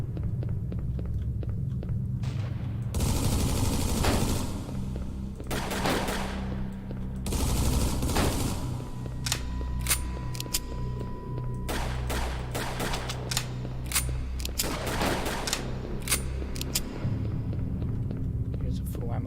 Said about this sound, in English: we've seen this enemy up here, which is a sniper enemy. It fires slowly and does lots of damage